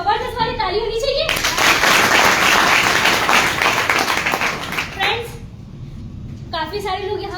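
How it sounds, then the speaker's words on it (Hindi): An audience at an IMC business event breaks into loud, dense clapping lasting several seconds, with a speaker's voice heard just before and after it. "एक जबरदस्त वाली ताली होनी चाहिए।"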